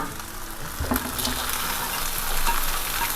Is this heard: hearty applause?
no